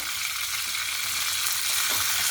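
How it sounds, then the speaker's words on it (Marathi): Mustard seeds, cumin and curry leaves sizzle in hot oil, giving a steady, close, bright frying hiss with no talk. "तेल चांगलं तापून झाल्यानंतर आपण त्याच्यामध्ये मोहरी, जिरे, कढीपत्ता,"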